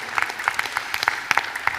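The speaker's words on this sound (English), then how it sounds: "Big round of applause." A small audience applauds in a conference hall at the WCIT 2019 technology event, sparse uneven claps with a few sharp louder hits standing out from a thin, patchy patter.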